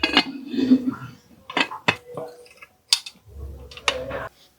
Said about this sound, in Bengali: আবার ঢাকনাটা লাগিয়ে দিচ্ছি